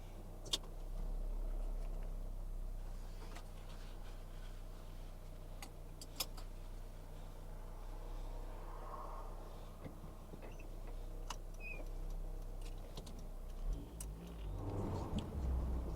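A rare Volkswagen Golf 1 GTS being driven through a South African wine town, heard from the cabin as a low, steady engine hum and road rumble with occasional small clicks and ticks.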